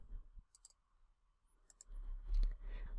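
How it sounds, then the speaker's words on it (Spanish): Mouse clicks on a computer while saving an Excel spreadsheet file, a few sharp near clicks spaced apart over faint background hum, with a slightly louder rustle toward the end. "le voy a dar clic en guardar"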